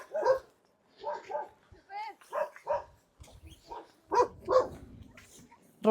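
A dog at an old-style village house in rural Uttarakhand barks repeatedly in short uneven bursts, fairly close, with a few louder barks toward the end and a brief low rumble between them.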